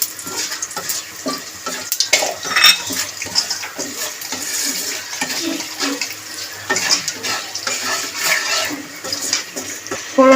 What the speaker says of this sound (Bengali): ফোড়নটাকে একটুখানি নেড়ে চেড়ে ভেজে নেবো